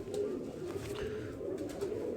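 Close, steady throaty cooing comes from a Qasori pigeon with dry purple feet, kept by a breeder, a low rolling murmur that carries through the whole moment without pause.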